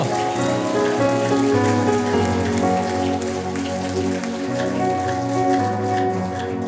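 Steady, dense clapping from a worship audience, a continuous patter like rainfall, with a sustained musical drone underneath throughout.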